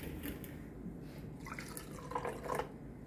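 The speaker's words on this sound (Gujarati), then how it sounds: "બંનેમાં સરખું જ પાણી નાખીશું આપણે," Bottled water splashes and trickles as it is poured into containers, a soft, close liquid sound that swells briefly toward the end, with no talking.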